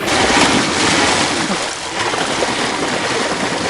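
An electric bike converted into a water bike, its motor submerged, churning and splashing through water close by in a loud continuous wash, with voices briefly audible.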